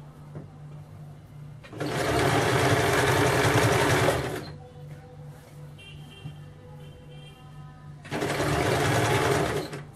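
A sewing machine runs in two loud, steady bursts while stitching around the edge of a kameez dress, with quiet pauses between runs.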